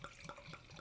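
Nøgne Ø Dark Horizon Fifth Edition Russian Imperial Stout pours into a fragile glass, a short, quiet, close glugging trickle with a few rhythmic liquid pulses.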